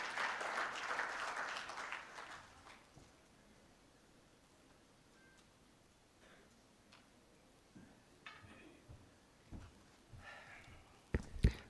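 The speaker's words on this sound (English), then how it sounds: "Please give a round of applause to welcome the chairman of Softwareka" Audience applause at a TECHX Student Edition 2025 event welcoming the chairman of Softwareka, strong in the opening two seconds before it fades into quiet room noise with scattered taps and rustles.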